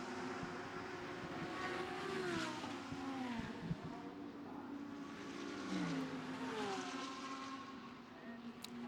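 GT race cars in the Blancpain GT Series Asia race at Suzuka sweep through the Spoon curve. Engine notes rise and fall as the cars brake, downshift and accelerate, heard at a distance from trackside.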